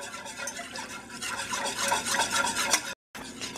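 Cold milk being whisked into a roux for a pumpkin and sausage lasagne sauce, a rapid rhythmic whisk scraping against the pan, close and steady before a brief cut to silence.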